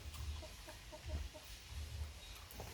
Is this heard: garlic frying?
no